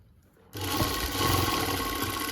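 A sewing machine starts suddenly and runs steadily at close range with a dense mechanical whir, stitching lace onto the edge of a dupatta. No voices are heard.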